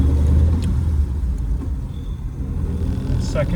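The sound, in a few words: 1937 Plymouth Deluxe sedan pulling away in gear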